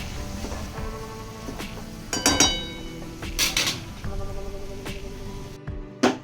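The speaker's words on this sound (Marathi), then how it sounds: "आता आपण ही भाजी छान हलवून घेऊयात" A spoon stirs an almost-cooked vegetable dish in a cooking pot while dal boils nearby in a home kitchen, making scattered clinks and scrapes of metal on metal, with a few louder clattering bursts.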